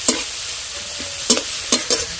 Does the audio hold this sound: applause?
no